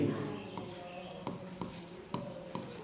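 Pen or chalk strokes during a Class 10 math lesson, a run of short scratching marks with several distinct taps in an irregular rhythm, close and fairly quiet, with no talk.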